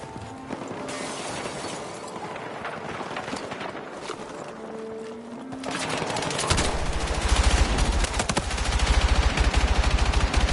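Automatic rifle fire in Battlefield 6, a rapid continuous burst rattling loudly in the second half over a busy game soundscape of distant shots and effects.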